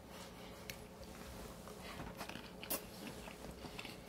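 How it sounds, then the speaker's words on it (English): Crunchy homemade tortilla chips being bitten and chewed with keto white chili, quiet close crisp crunches scattered irregularly over faint background noise. "these look like tortilla chips, homemade tortilla chips. And let's see how they taste with that."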